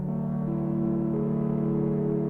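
A Vital software synth plays a sustained tone with random pitch automation for an analog feel, its layered harmonics wavering and one partial stepping up partway through, steady and alone with no talk.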